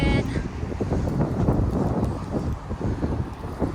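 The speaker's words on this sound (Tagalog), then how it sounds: "Lakas ng hangin." Strong wind gusting outdoors during snowfall, a steady loud buffeting roar across the microphone with no pauses.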